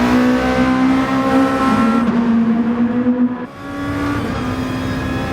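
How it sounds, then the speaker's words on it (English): A race car engine in Gran Turismo Sport at the Red Bull Ring drones loudly and steadily, pitch sliding down under braking into a corner, then settling at a lower hum. "Trying to glide that car into the corner."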